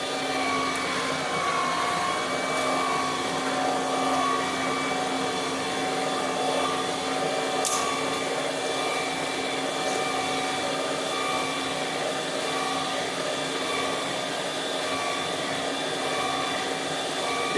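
Electric juicer running steadily while juicing plums, a continuous motor whine and hum, fairly loud and even throughout, with no talking over it.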